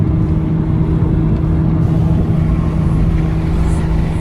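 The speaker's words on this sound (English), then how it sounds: "The wind buffeting's bad." Wind buffets inside a moving Toyota GR Supra MK5 A90, a loud, low, pulsing rumble filling the cabin steadily over road and engine noise, with no one talking.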